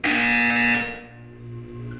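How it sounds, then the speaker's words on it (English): A harsh electronic buzzer in the Portal 2 video game blares loudly for under a second, then drops to a quieter, lower tone that fades out, with no voice present. "You will hear a buzzer."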